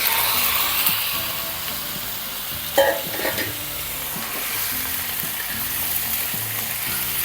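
Chicken pieces frying in curry masala in a pan, a continuous close sizzle with a scraping stir and a short clatter partway through.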